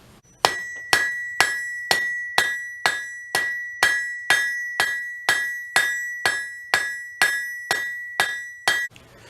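A hammer strikes metal on an anvil while forging a taper, ringing in an even series of about sixteen bright, clinking blows at a steady pace, each leaving a short metallic ring, close and clear with no speech.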